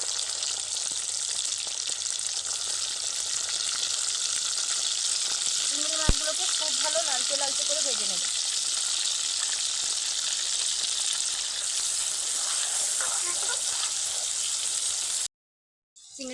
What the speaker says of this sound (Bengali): একই তেলে বেঁচে থাকা চিংড়ি মাছগুলো দিয়ে ভেজে নেব